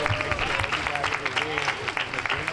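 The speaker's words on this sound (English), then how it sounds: "Can we give him another round of applause, please?" Crowd applause at an outdoor march rally at Pasadena City Hall, steady mid-distance clapping mixed with some voices and cheering over a short stretch.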